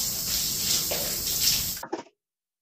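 Steady broadband hiss of water running, like a shower spraying inside a van under construction, loud and continuous for nearly two seconds before cutting off abruptly with a few faint drips and knocks, then silence.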